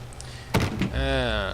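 A door thuds and rattles as a player tries it in the horror game Cardboard Spook Mansion, a short sharp knock followed by a sustained tonal hum, with a voice speaking nearby.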